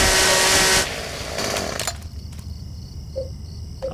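A chainsaw in the video game Silent Hill 4: The Room, a loud, close buzzing roar that cuts off abruptly, followed by quieter rattling and faint tonal game sounds.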